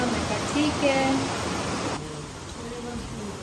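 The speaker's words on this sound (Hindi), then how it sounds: "बहुत तेज़ बारिश शुरू हो गई और बारिश अभी तक चल रही है, रुक ही नहीं रही है" Heavy rain pouring down without a break, a dense steady hiss that holds from start to end and softens slightly partway through, with faint tonal chirps drifting in the background.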